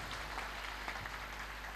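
A church congregation claps for Jesus Christ in a brief burst of distant, faint applause over a low background hum.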